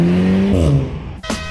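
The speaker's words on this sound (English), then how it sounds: "The pop crackle tune, paired with a straight pipe exhaust, lets everyone know that there's a flog on its way." Car with a pop-and-crackle tune and straight pipe exhaust, a loud engine note dropping off throttle followed by sharp exhaust crackles and a burst, close and alone without talk.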